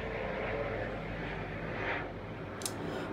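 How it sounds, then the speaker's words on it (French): A helicopter passes overhead, a steady, broad engine and rotor roar that holds fairly loud throughout and eases slightly near the end, with no voices. "On va laisser l'hélicoptère passer."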